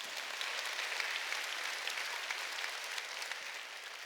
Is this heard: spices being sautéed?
no